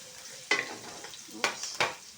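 Onions frying in a hot pan for chicken kaldereta, a steady sizzle broken by three sharp scraping stirs of the spatula.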